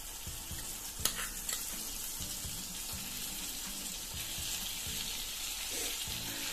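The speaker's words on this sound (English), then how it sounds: "I will make a tadka, 2 tablespoons of ghee." Ghee sizzles steadily in a pan as a tadka is made for dal, a continuous bright frying hiss with a few light clinks and stirring sounds over it.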